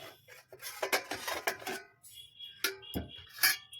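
A metal lid lifted off a pan of baked pastry cake, giving several clattering scrapes and clinks of metal close by, with short pauses between them and no talking.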